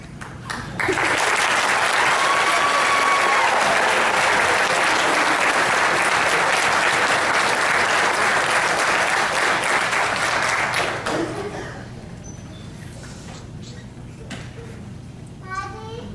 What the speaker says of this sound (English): we will give him a big round of applause once he has his